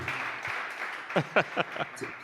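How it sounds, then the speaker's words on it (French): A soft, continuous wash of audience applause for the president at a general assembly, fairly distant and even, with a voice speaking over it in the second half. "On peut, je crois, applaudir le président."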